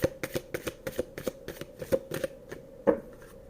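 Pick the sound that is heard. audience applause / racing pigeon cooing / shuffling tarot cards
shuffling tarot cards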